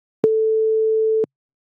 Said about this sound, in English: because it's a sine wave, it has very even pressure